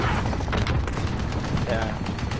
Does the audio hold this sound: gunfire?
yes